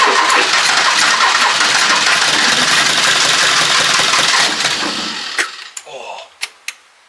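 An abandoned 1980s hot hatch, left sitting for 25 years, cranks loudly and steadily for about five seconds without catching, then falls quiet apart from a few sharp clicks.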